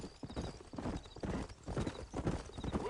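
Horse hooves clip-clop in a steady trotting rhythm, close and clear, as a horse travels out of a frontier town in the Western video game Red Dead Redemption, with no talk over it.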